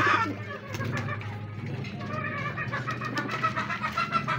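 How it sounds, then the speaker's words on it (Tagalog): Stock pigeons in a loft coo and flutter in a steady, close, busy chorus with soft clucking calls throughout. "Ayan yung mga stock bird natin."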